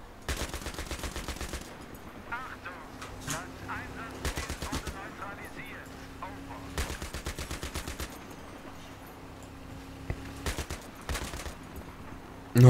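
A gun turret in Battlefield 3 fires repeated rapid machine-gun bursts, several sharp volleys separated by short pauses, over a steady vehicle engine drone.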